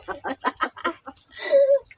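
A chicken clucks in a quick series of short, close calls, ending with a longer, higher squawk; no voices.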